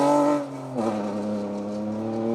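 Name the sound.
rally car engine, Mark II Escort 2WD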